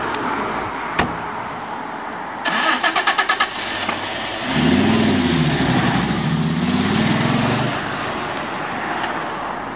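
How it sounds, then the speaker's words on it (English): A Fiat Coupe's engine cranks with a quick burst of starter clatter after stalling, then catches and settles into a steady mid-pitched idle and drive. A sharp click or door thud comes just before, and no one speaks. "I didn't just stall the car."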